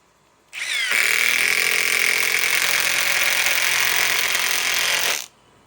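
A Milwaukee M12 Fuel cordless impact tool with a small socket fitted, powered by a 2 amp battery, spins up and runs in a loud, steady, rapid hammering buzz for about four seconds, then stops abruptly.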